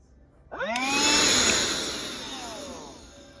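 A BLACK+DECKER Dustbuster QuickClean handheld vacuum switches on abruptly, its motor whining up to a loud, steady whir close by before easing slightly, with no voices present.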